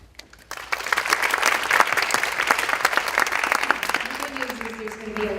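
An audience claps at a theater season announcement, a short burst of applause that swells quickly and holds steady before easing off as a voice begins speaking.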